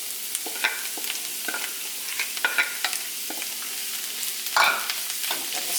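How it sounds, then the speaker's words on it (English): Diced onions and garlic frying in olive oil over medium-high heat, a bright steady sizzle broken by repeated close scrapes and stirs of a utensil through the pan. "going to put in our diced onions and garlic"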